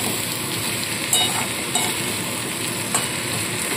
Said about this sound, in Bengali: দিয়ে ভালো করে মিশিয়ে নিচ্ছি